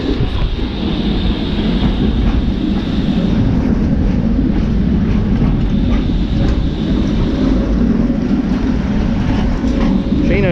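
A tram rolls along a street in Brno, Czechia, a loud, steady rumble of wheels on rail with mechanical rattle that fills the whole stretch without a break.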